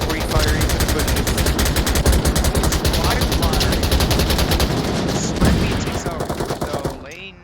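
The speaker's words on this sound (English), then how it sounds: "Reaper, pre-firing into the bushes." Rapid sustained gunfire from the VR shooter Onward during a competitive scrim, continuous automatic bursts rattling for several seconds, loud and near, with faint voices underneath.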